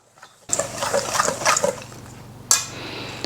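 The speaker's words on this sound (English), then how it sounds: "we're gonna whisk that up real quick just to make sure everything's all mixed together here as well" A whisk stirs dry ingredients with baking powder in a bowl for gluten-free pumpkin dog treats, giving brisk scratchy scraping for about two seconds, then a short pause and a final clink.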